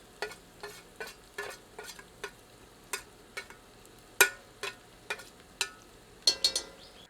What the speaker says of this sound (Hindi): इसे प्याज के साथ मिलाकर 1 मिनट भून लेते हैं।